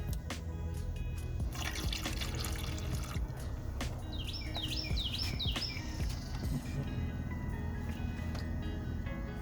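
Water trickles and drips from the bleeder valve on an overheating Nissan D21 Hardbody radiator, a steady wet splatter over a constant engine hum, with a few brief high squeaky chirps partway through.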